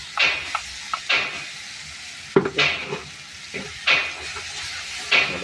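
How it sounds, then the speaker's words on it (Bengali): Tomato and chilli paste with fried garlic, onion and spices stirred in a hot pan, a sizzling hiss punctuated by repeated scraping strokes of the spoon, close and fairly loud. "ওটাকে নাড়িয়ে নেব।"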